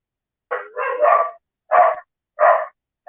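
A dog barks close and loud in four separate bursts, the first longer and broken, the rest short and evenly spaced, with silence in between and no talking.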